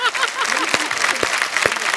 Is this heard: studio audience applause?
yes